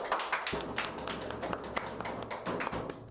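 Hand clapping from a small group opening an Indonesian podcast at Bawaslu Kabupaten Malang, a steady run of close, crisp claps lasting a few seconds with no voices over it.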